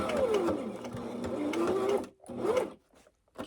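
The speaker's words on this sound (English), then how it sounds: "Put the presser foot down and go forward 10 stitches or so." A sewing machine stitching forward through quilted fabric for a tablet bag, making a quick, steady run of needle clatter for about two seconds, followed by one short burst and then quiet.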